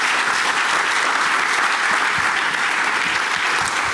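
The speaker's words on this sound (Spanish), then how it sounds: "Un fuerte aplauso para ellos" Sustained, dense applause from a conference audience for a panel of speakers at a discussion about participation in change from the state, business and nonprofit sectors, steady and loud throughout with no voices over it.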